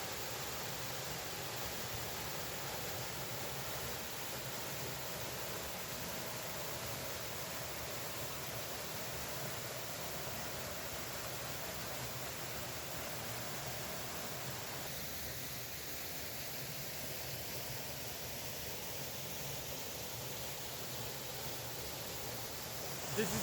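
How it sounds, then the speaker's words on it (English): The Kostenkamak waterfall in the Rhodope Mountains in winter, among icicles, gives off a steady broadband rush of falling water, continuous and even throughout with no other clear sounds. "This is the waterfall Kostenkamak, one of the most beautiful waterfalls in the Rhodope Mountains."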